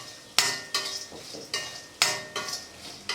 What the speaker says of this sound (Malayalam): ഒരു 5 മിനിറ്റൊക്കെ വറുക്കുമ്പോഴത്തേക്കും ചെമ്മീൻ നല്ല ക്രിസ്പി ആയിട്ട് വരും